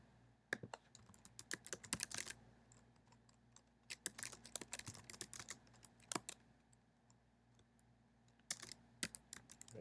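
Someone types on a computer keyboard in a quiet room, with irregular bursts of crisp key clicks, close and fairly soft, separated by short pauses.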